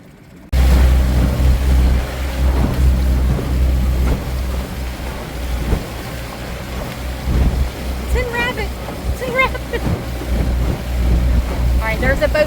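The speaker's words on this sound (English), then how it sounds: "there's a boat coming" A boat engine drones low and steady amid wind buffeting the microphone, with people talking intermittently over the rumble.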